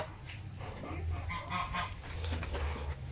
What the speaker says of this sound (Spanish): Ahí están los gansos refrescándose en esta piscina por esta calor.